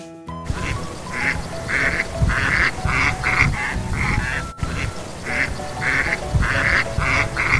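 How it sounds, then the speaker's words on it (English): A family of ducks at a beach quacking in repeated bursts, several calls in quick succession with short pauses, close and clear over light background noise. "Look at this cute family of ducks."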